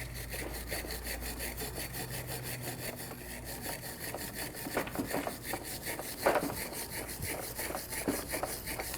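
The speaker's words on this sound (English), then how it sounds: "Using a wire brush, we're going to clean where our tins are going to sit." Wire brush scrubbing the front brake mounting area on a 2019-2025 Ram 2500, a steady rapid back-and-forth scraping rasp that is fairly quiet and continuous, with a few sharper strokes near the end.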